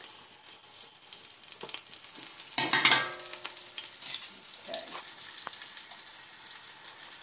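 Food cooking in a pan makes a steady, quiet sizzle, with a brief louder burst of frying and stirring partway through.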